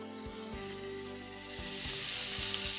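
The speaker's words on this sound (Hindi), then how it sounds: "ये तेल गरम हो गया है। इन्हें आप जिस साइड में आपने रोल किया है उसे पहले अंदर डालिए ताकि वो सील हो जाए" Rice and chicken rolls frying in hot oil, an even, steady sizzle that swells a little louder partway through, with a faint low periodic thump running underneath.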